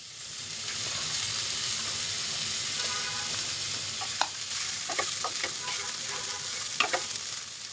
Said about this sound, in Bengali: যেই সবজিগুলো একটু শক্ত টাইপের সেগুলোকে আগে ভেজে নেব।